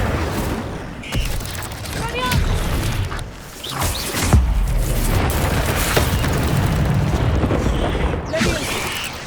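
Spell blasts in Hogwarts Legacy, including the Incendio fire spell: repeated whooshing bursts and booming impacts amid combat clatter, fairly loud, with a voice calling out over them.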